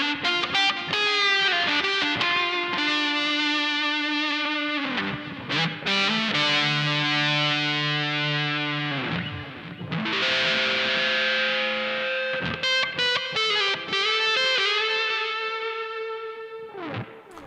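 A fuzz-driven electric guitar lead runs through a Strymon Volante delay pedal, thick sustained distorted notes and bends ringing out with echoing repeats, loud and close with no talking.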